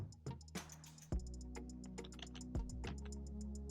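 Keys clatter on a computer keyboard as a command is typed, a quick run of light clicks and ticks with a couple of heavier thumps, close and quiet with no voices.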